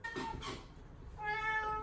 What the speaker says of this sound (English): Oh, my cat is here.